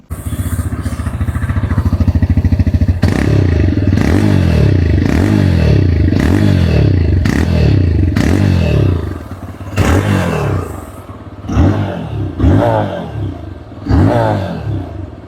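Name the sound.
TVS Raider 125 motorcycle exhaust sound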